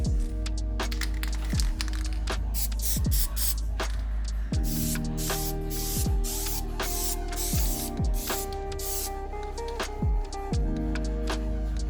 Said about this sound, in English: We're also going to be running this copper coat that we're going to have to spray.